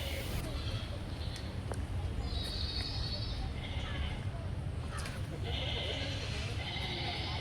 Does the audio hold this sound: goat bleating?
yes